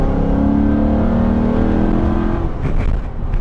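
A 2006 Pontiac GTO fitted with an LS3 V8 accelerates hard, its engine note a loud, steady rising drone with strong harmonics that eases off near the end.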